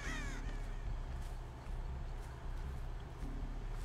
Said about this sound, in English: the crows threw me off for a moment there